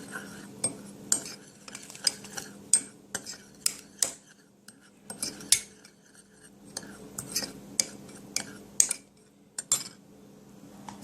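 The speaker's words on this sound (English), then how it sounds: "we're going to mix this all together" Potatoes seasoned with paprika and parsley flakes are mixed with a utensil in a dish, giving repeated clinks and scrapes of metal on the dish in an irregular rhythm, close and fairly quiet, with no talking.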